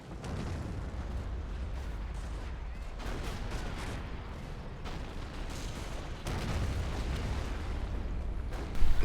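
Calliope rocket artillery in a video game pounds a Nashorn tank destroyer with a steady, dense roar of launches and blasts that runs the whole stretch, swelling louder near the end.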